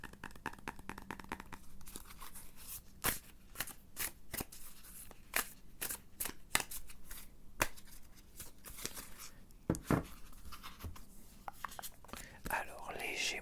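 Tarot cards are shuffled for a reading, with soft papery riffles, taps and crisp card snaps close to the microphone under a quiet, whispery voice.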